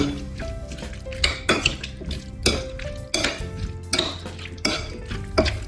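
Bruschetta topping of pressed garlic and olive oil stirred by hand in a bowl: a rhythmic run of close scraping strokes with light clinks of a utensil against the dish, no speech.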